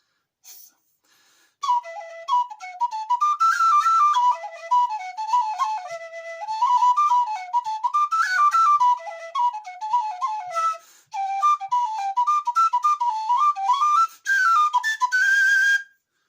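A plastic tin whistle with a plastic body, plastic head and brass middle section plays a quick, airy melody in bright, breathy phrases, close and loud, with short pauses between runs.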